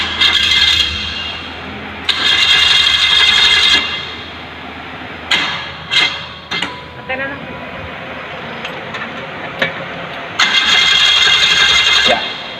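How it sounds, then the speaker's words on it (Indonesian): A car engine is cranked repeatedly and struggles to start, with bursts of whirring cranking separated by clanks and quieter gaps. "Ya, engine sulit dinyalakan."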